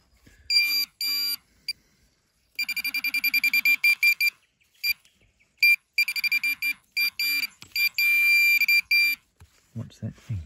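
Minelab Equinox 800 metal detector emitting bursts of high electronic signal tones, rapid repeated beeps and warbles with gaps between, close and clear.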